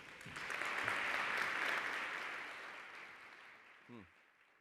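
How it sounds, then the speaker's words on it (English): Audience clapping on cue at a small business awards gala, a dense wash of applause that swells, holds, then tapers away, ending with a brief voice at the close. "So I would just like to hear your normal clap."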